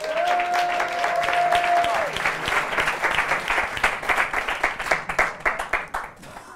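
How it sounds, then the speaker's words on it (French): Audience applause in a French television studio show, a full burst of clapping with a held tone at the start that thins into scattered separate claps as it dies away. "Je vous demande d'applaudir quelqu'un d'incroyable, Monsieur Yvan le Terrible."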